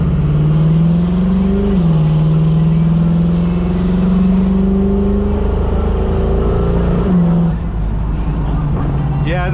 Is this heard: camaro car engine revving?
yes